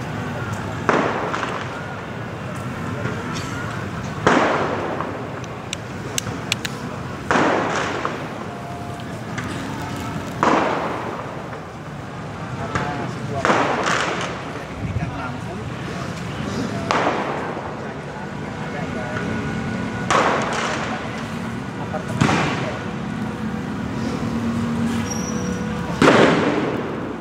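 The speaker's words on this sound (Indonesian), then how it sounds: "Itu suara petasan kembang api" Firecrackers and fireworks burst at a night street protest outside the Mako Brimob Kwitang gate in central Jakarta: loud, sharp bangs roughly every few seconds over a constant roar of crowd noise and shouting.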